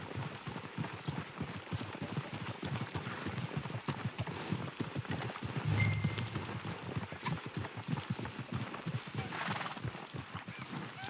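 Horses walk along in the Western video game Red Dead Redemption 2, their hooves clip-clopping in a steady, fairly quiet rhythm over low outdoor ambience, with one brief whinny-like swell midway.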